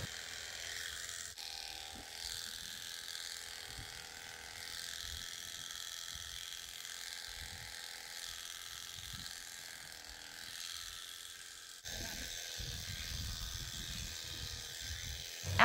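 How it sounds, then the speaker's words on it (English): Electric shears clip the fleece from an alpaca during shearing day at a ranch, giving a steady, close mechanical buzz with a ratcheting clatter that jumps louder near the end. "After shearing the blanket, they will shear their belly, the breech, the legs, and their neck."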